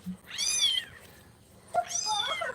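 A white mother cat with kittens gives two clear, fairly close meows separated by a short pause, with no other sound around them.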